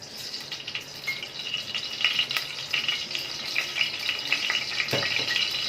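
Onions fry in oil in a pot for homemade Egyptian koshari rice, giving a steady close sizzle with small pops and light stirring clicks throughout.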